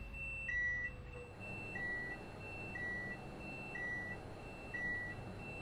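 A steady series of short electronic train warning beeps in Train Sim World 5 repeats about once a second over a low rumbling background, fairly faint and with no talking.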